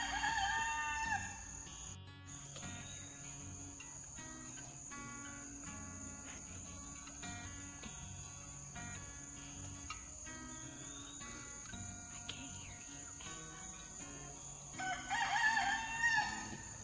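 Roosters crow among a dense, steady chorus of crickets and insects in a backyard garden at night, continuous and fairly loud, with other fowl clucking faintly underneath.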